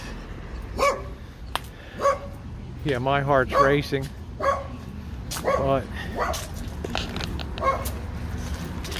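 Dogs on a street in Compton, Los Angeles, barking and yipping in several short bursts, fairly near, mixed with someone talking over the top.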